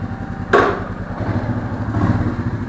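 A Royal Enfield Meteor 350 motorcycle rides near Pune on an early Sunday morning, its steady, throbbing single-cylinder engine running continuously up close, with a brief clatter or thump early on.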